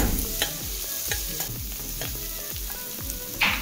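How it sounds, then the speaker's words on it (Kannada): Onions and garlic sizzle in a pan for obbattu saaru, stirred with quick regular scraping strokes about every half second over a close, continuous frying hiss, with no speech. "ಹಾಗೆ ಈರುಳ್ಳಿ ಎರಡನ್ನೂ ಕೂಡ ಚೆನ್ನಾಗಿ ಬೇಯಿಸ್ಕೋಬೇಕು, ಅಂದರೆ ಚೆನ್ನಾಗಿ ಮಿಕ್ಸ್ ಮಾಡಿ"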